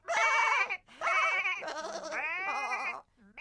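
Cartoon sheep in a children's Little Bo Peep nursery-rhyme episode bleat in three loud, wavering calls close by. A short pause separates the first two, and a brief cut-off sound follows at the end.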